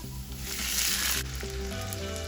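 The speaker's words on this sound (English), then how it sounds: "Once the oil is nice and hot, in goes our minced garlic" Minced garlic hits hot oil with a loud, continuous close sizzle that swells and then settles into a steady crackling fry over a low background hum.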